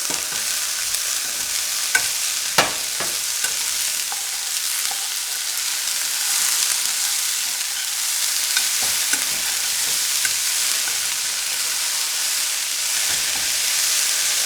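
Beans palya being stirred as it fries in a pan with salt, giving a steady sizzle and hiss with a few scraping knocks of the spoon near the start, and no voices.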